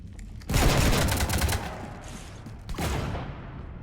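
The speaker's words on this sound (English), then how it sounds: "You want to stop shooting up my ship?" Bursts of gunfire from the Mass Effect 3 Legendary Edition Citadel mission rake a ship, a loud sustained volley followed by a pause and a second sustained burst.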